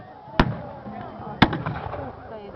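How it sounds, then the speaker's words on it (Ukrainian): Cannon fire at a reenactment of the Battle of Berestechko, two sharp booming shots about a second apart with echoing rumble trailing each, over faint crowd noise. "Атаку піхоти підтримує артилерія."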